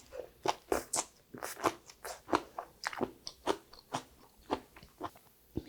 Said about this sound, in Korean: 야채하고 또 같이 곁들여서 먹어볼게요